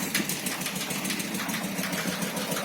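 A homemade tractor's small engine runs with a steady, rapid mechanical chatter as it drives up to nudge a Tavria car back, loud and close without speech.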